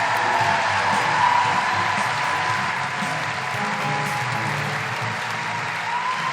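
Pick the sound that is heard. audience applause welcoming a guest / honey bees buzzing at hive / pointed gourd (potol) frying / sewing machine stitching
audience applause welcoming a guest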